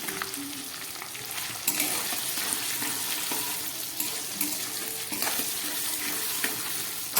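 Fried potato pieces going into hot oil tempered with ginger, asafoetida and cumin, giving a steady moderate sizzle with occasional clinks and stirring scrapes close by.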